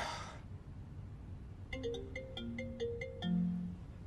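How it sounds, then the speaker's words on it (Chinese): A mobile phone ringtone plays a short electronic melody of bright, repeated tones after a brief burst of noise, fairly close but soft, in an indoor scene with no talking over it. "谁的手机在响啊？"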